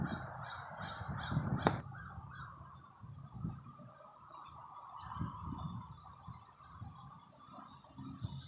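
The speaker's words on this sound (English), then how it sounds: "All you can hear are the birds." Crows caw repeatedly in a quiet old cemetery, their harsh calls coming in short bursts at a moderate distance over a soft outdoor background.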